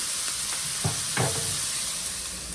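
Onions cooking in a pan for a from-scratch gravy give a steady close sizzle, with a couple of short stirring scrapes partway through and no talking.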